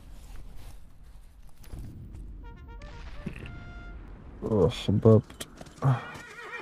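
A horse whinnies loudly near the end amid hoofbeats and scattered clatter in the PS3 game Call of Juarez: Bound in Blood, with a brief spoken interjection earlier.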